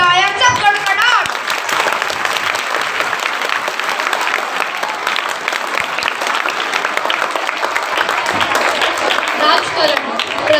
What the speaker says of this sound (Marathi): ग्रीन हाऊसला त्यांच्या प्रेरक सादरीकरणासाठी टाळ्यांचा कडकडाट.